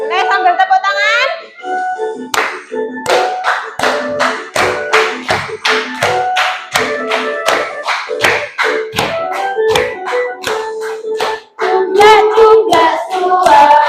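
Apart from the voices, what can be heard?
children clapping along while singing a song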